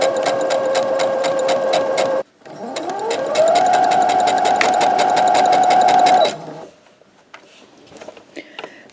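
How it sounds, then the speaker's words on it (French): A sewing machine stitches along the length of a fabric tote bag in two loud, steady runs, the second ramping up to a sustained whirring hum before stopping abruptly into quiet. "Et puis là, on coud sur toute la longueur jusqu'au prochain trait."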